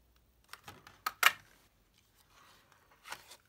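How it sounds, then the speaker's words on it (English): A 1 3/8 inch circle paper punch snaps through paper, with a few soft clicks and handling noises, then one sharp punch crunch, and a quieter rustle near the end. "that's the 1 3/8 of an inch circle punch"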